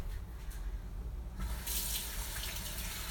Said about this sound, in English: Now I gotta wash off my hands again.